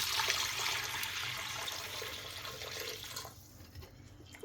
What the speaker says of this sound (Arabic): غادي نزيد فيها الماء سخون